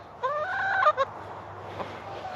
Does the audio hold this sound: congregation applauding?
no